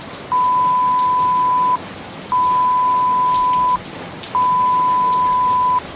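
A heavy rain sound effect for a Bengali audio drama hisses steadily throughout, overlaid by three long, evenly spaced electronic beep tones.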